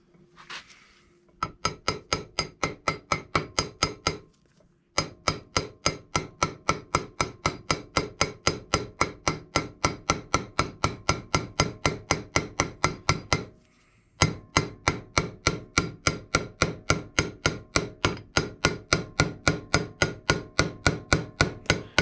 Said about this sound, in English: put the socket on, and then just gently tap it in until it hits the snap ring